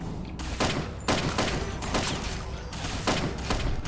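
Repeated gunfire in the Fallout: Tale of Two Wastelands video game, several loud sharp bursts spaced about half a second apart over a dense, noisy background.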